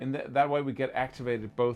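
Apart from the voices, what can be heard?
No everyday noise stands out behind the speech.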